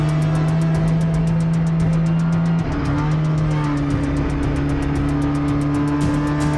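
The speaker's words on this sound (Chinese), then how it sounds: "冠的车组赛道上展开激烈的较量， 车辆又滑又加不了速" Race cars circuit a wet, waterlogged track, a loud steady engine drone holding a constant pitch, dropping to a new gear tone partway through, with sustained roar and no speech.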